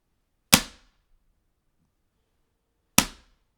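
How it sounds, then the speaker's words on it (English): Two sharp, isolated slaps, a pencil's flat side or a hand striking a desk in pencil drumming, spaced about two and a half seconds apart with quick decay and silence between. "You make the snare sound by slapping the flat side of your pencil on the table."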